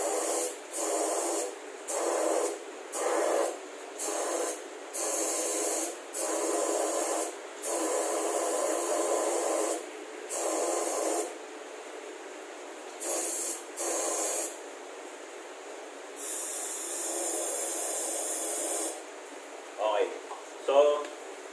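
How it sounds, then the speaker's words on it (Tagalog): FMS carburetor cleaner is sprayed from an aerosol can, without its nozzle, into a Toyota Rush's injectors in a long series of loud hissing bursts, some short and some sustained, with brief pauses between them. "check lang natin yung FMS Carburetor Cleaner and then i-spray natin siya directly"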